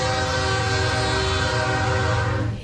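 A Mexican freight train sounds a loud, sustained horn blast of layered tones over a rumbling rail background, close and continuous before tapering at the end.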